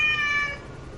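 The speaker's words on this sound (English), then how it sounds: "Oh god, a cat." A cat gives one clear, drawn-out meow, close and fairly loud, fading after about half a second into a quiet background hum.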